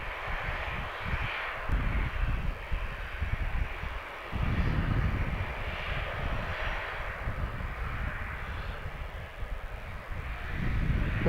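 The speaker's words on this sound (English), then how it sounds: "another TUI, another 737 MAX 8 coming in from Salzburg" TUI Boeing 737 MAX 8 airliner arriving from Salzburg, a distant, steady jet engine roar with slow swells in loudness, heard alone.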